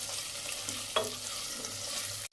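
Garlic frying in oil inside a pressure cooker for pav bhaji gives a steady, close sizzling hiss, with one sharp burst of crackle near the start and then an even fry until it cuts off.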